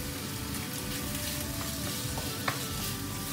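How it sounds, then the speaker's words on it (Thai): Fresh shrimp and stink beans stir-fried together in a hot pan give a steady, dense sizzle with faint scraping of the spatula, close and continuous without any talking. "ใส่กุ้งนะคะลงไปเลยค่ะกุ้งกับสตอใส่พร้อมกันเลยนะคะ"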